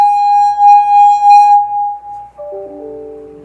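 A wine glass partly filled with water rings with a loud, pure, sustained tone that pulses gently. Partway through, the ringing changes to lower overlapping tones that continue to the end.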